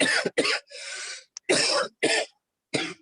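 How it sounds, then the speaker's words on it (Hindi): A run of harsh, close coughs, about six bursts with brief pauses between them, one drawn out like a hacking fit. "बहुत खांसी आ रही है आपको"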